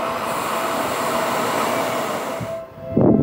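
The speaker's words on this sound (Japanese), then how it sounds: "まもなく2番ホームに各駅停車新木場行きが10両編成で参ります。" A 10-car local train on the Seibu Ikebukuro Line pulls into a station platform, a loud steady rumble of wheels and cars with a brief squeal, easing off near the end before a closer thump.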